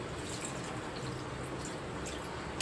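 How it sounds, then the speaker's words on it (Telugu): Water pouring steadily into a pot of Andhra-style chicken and cucumber curry, a continuous close splashing wash with no talking. "ఒక్క రెండు గ్లాసులు వాటర్ అయితే పోసుకుందాం కూర గ్రేవీకి సరిపడినట్టు ఇలా వాటర్ అయితే పోసేసుకుని"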